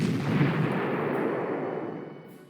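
Artillery fire in the wartime strategy game Panzer Corps: a single loud, rumbling blast that rolls on and slowly decays over a couple of seconds, with no voices over it.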